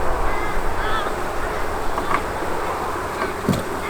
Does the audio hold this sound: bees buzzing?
yes